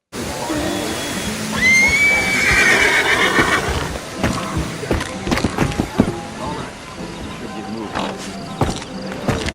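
A horse in Red Dead Redemption whinnies loudly with a rising, wavering neigh, followed by scattered hoof clops and rustling movement.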